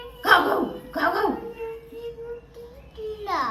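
A voice imitates a dog barking with several short, loud bark-like calls, followed by more talking.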